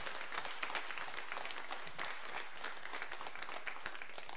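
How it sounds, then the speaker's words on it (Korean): A church congregation gives a warm round of applause, a steady, dense wash of many hands clapping at once from a large indoor crowd, sustained throughout without speech. "우리 뜨겁게 격려의 박수를 한번 여기서 저 1층까지 한번 보내드리도록 하겠습니다"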